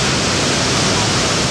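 A waterfall on Maui pours in a steady, loud broadband rush with no breaks, with warm rain falling at the scene.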